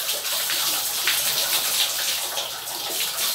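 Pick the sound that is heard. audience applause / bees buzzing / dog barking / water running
water running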